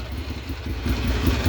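A 2009 Ducati Monster 696 fitted with a Two Brothers exhaust runs steadily, a deep, close engine rumble that swells slightly toward the end with no talking.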